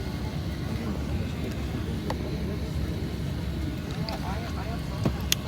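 Airplane cabin noise in flight on a trip to India, a steady low engine roar and airflow hum filling the background at moderate level, with a voice speaking over it.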